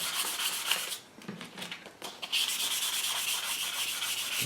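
Rhythmic scraping of sandpaper on an English walnut air rifle gunstock, close by, with a brief pause before the strokes resume steadily.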